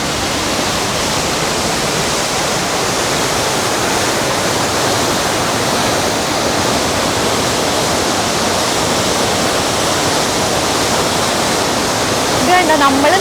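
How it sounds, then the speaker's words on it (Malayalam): The Rhine Falls in Switzerland roar with great force just below a viewing platform, a loud, steady, broadband rush of water that fills the whole stretch without letup. "നമ്മൾ നിൽക്കുന്ന സ്ഥലത്തിന് താഴെയാണ് ഇത്രയും കുത്തി ഒഴുകി, അതായത് ഭയങ്കര ഫോഴ്സിൽ റൈൻ ഫോൾസ് ഒഴുകി പോയിക്കൊണ്ടിരിക്കുന്നത്."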